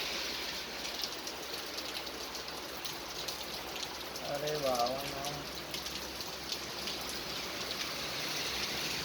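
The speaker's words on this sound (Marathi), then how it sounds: "अशा तऱ्हेने आपल्या गावाकडे पाऊस आल्याने" Steady rain falls over a village, an even broadband hiss throughout, with a voice briefly speaking partway through.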